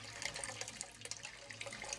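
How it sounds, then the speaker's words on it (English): A small fountain spout trickles water steadily, a soft, continuous babble and splash heard close and quietly, with no talking. "so I'm going to be hearing this water flowing all night long"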